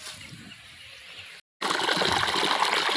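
Irrigation water runs steadily into furrows in a farm field, a continuous trickling flow that cuts out briefly, then returns louder and fuller.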